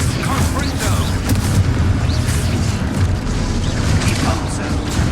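Confringo blasting spell explosions in a Harry Potter video game, a dense, continuous rumble of loud booms and bursts with a player's voice shouting spell names over the blasts.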